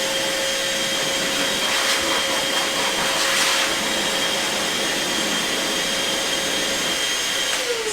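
A Dyson tower fan used as a blower, running as a loud, steady whooshing roar with a constant whine that lasts the whole stretch, with no talk.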